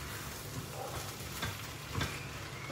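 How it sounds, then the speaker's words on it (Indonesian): Potatoes, corn and other vegetables for lumpia filling stir-fried in a pan, with steady close sizzling and occasional scraping stirs throughout, no talking. "Lepas tu kacau goreng semua tu."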